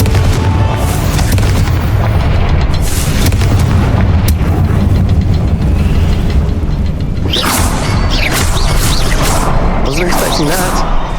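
Confringo blast spell explosions in the Hogwarts Legacy video game: loud, sustained booming bursts with whooshing sweeps over a dense rumbling game soundscape, stronger crackling blasts in the last few seconds.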